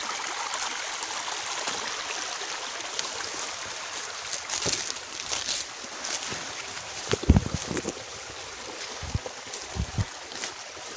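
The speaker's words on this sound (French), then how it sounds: "Ce petit cours d'eau qui continue à descendre" A small stream flows downhill beside a hand-dug fish-farming pond, a steady, faint trickle and wash with a few sharper knocks and splashes near the end.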